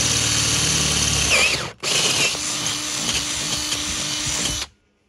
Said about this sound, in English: I need to drill these holes out to 6 mil first.